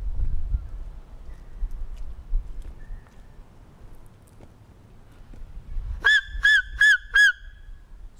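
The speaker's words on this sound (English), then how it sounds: "Why are seagulls at the creek?" Seagulls at a creek at dusk let out four sharp, honking calls in quick succession near the end, loud and close after a stretch of quiet low rumbling.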